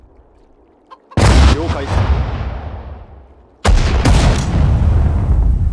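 Rifle gunfire in the war game Sudden Strike 4 during a Singapore battle, two loud, sharp bursts of shots, each ringing out into a long decaying rumble, with brief speech before the first burst.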